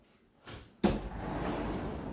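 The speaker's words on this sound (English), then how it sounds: "I'm going to open the door." A door is pulled open at home during indoor karate practice, a soft creak or scrape followed by a sharper latch clack, then steady airy room noise.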